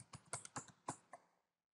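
Typing on a computer keyboard: about seven quiet, close keystrokes at an uneven pace, then silence.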